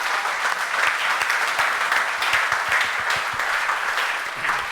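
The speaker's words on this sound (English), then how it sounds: "How about a round of applause for this awesome panel?" Audience at a short-term rental investor panel at the 2023 Investor Summit clapping steadily for the panelists, a dense, even wash of many hands held at a constant level throughout.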